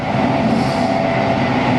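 Aboard a moving train in China, a steady loud rumble of wheels and carriage fills the short stretch, with a constant droning hum and faint rhythmic rail clatter and no talking.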